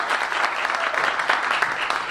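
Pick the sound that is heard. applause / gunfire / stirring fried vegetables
applause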